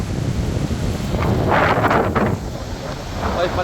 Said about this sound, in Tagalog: Marami lakas na hangin.